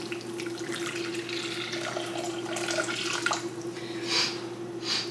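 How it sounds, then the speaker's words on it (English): Hot water pours steadily into a bowl of yeast, a continuous close trickling wash that swells slightly toward the end, with no talk over it. "So the yeast is getting activated by the hot water"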